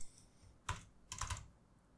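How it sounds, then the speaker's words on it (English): Two short bursts of typing on a computer keyboard, the first a single quick tap cluster and the second a slightly longer run of keystrokes, fairly close and clear over a quiet background with no talk. "when I type true"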